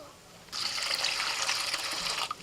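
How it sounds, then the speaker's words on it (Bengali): Tap water running while coriander leaves are washed, a steady splashing gush that starts abruptly, flows for about two seconds and stops. "চলো কলতলায় নিয়ে চলো, ভালো করে ধুয়ে নেবো।"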